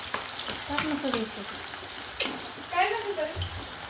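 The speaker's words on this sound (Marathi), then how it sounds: "आता ही दुसरी पण तशीच तळून घ्यायची आहे" Chana dal fries in hot oil with a hissing, bubbling sizzle, close by, while a voice murmurs briefly over it at moments.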